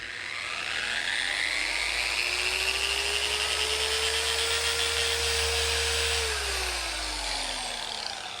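A dual action car polisher runs continuously with a high-pitched electric whine, its pitch rising as it spins up, holding steady, then dropping toward the end, close and alone.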